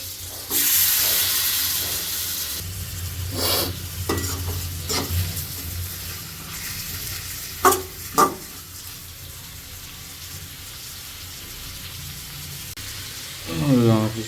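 Layer chicken pieces frying in a pan, stirred with repeated scraping and tossing strokes over a steady sizzle, with a few louder knocks of the spoon against the pan.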